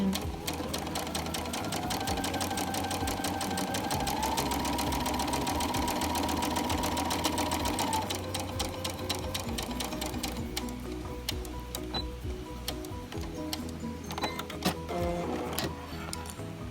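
A sewing machine top stitching a fabric face mask runs in a steady, rapid rhythmic chatter close by, the needle ticking continuously for the whole stretch with a slight change in tone partway through.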